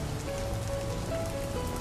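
Steady rain falls in an animated film, a dense continuous patter on surfaces with no voices.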